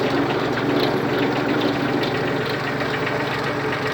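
Mitsubishi MT16 Japanese four-wheel-drive mini tractor engine running steadily with its soil rotary tiller engaged, a continuous loud droning rumble with a faint rhythmic knock and no voices.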